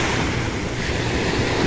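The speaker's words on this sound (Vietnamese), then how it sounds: "Như các bạn thấy là sóng biển nó không có được êm lắm," Rough sea waves at Panama City Beach roll in a loud, continuous roar of surf mixed with gusting wind buffeting close by, with no voices.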